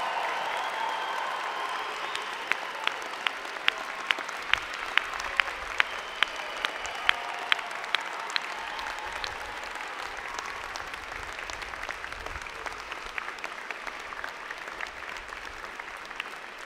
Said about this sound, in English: join me in applauding the amazing graduating class of June